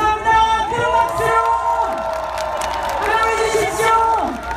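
A large outdoor crowd at a presidential campaign rally in Gwanghwamun cheers, whoops and shouts in a loud, sustained roar, with voices rising and falling over it and scattered applause underneath.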